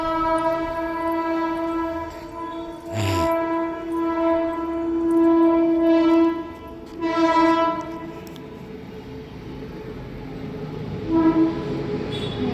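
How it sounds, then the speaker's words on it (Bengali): A train engine passes at a station with an overbridge, its horn sounding in long, strong tonal blasts that rise and fall over a continuous rolling rumble, with a sharp clank early on and a fainter honk near the end. "এটা কি ইঞ্জিন, কেমন হর্ন দিচ্ছে বাবা"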